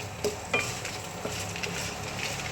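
Small red onions, shallots, fry in hot oil with a steady sizzle, broken by a few clinks and scrapes of a spoon against the pan.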